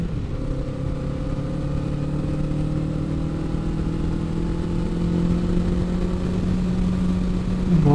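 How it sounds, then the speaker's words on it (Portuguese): Kawasaki Eliminator 500 motorcycle ridden through curves on a road, its engine giving a steady low droning hum with sustained tones, growing slightly louder toward the end. "O ronco do motor é muito bonito."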